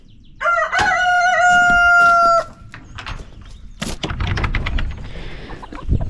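A rooster crows loudly nearby in one long, ringing call, followed by scattered clucks and shuffling noises from a flock of chickens.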